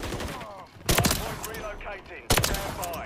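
Sniper rifle shots in Call of Duty MW3 multiplayer, two loud sharp blasts about a second and a half apart over game ambience, with a voice talking in the background.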